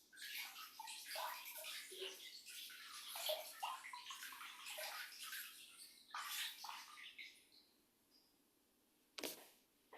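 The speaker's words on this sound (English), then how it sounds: "we want to rinse our feet with whatever you might have available for rinsing your feet off into the foot soak water" Water splashing and trickling as feet are rinsed off into a basin of foot soak water, a close, busy run of splashes that thins out toward the end, with one sharp splash near the close.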